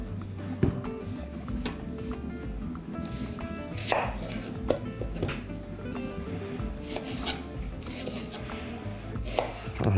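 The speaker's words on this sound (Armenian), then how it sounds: "Եվ փետրաձև կտրատում ենք 3 գլուխ սոխ։" Three onions being sliced into feather-shaped pieces on a board, with repeated knife taps in an uneven rhythm, moderately quiet and close, with no talking.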